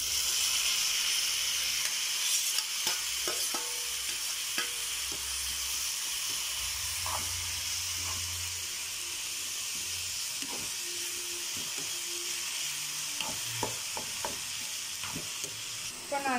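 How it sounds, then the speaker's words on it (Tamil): Chopped tomatoes added to browned onions sizzle steadily in a pan for tomato gravy, a constant frying hiss with scattered scrapes and clinks of a spoon stirring, near and alone. "இப்போ நம்ம இந்த ஸ்டேஜில் நம்ம கட் பண்ணி வச்சுருக்க 2 தக்காளி ஆட் பண்ணிக்கலாம்."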